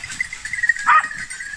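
Hunting dogs bark repeatedly during a wild boar drive, heard at a distance through the woods in short, uneven bursts, with one louder yelp near the middle.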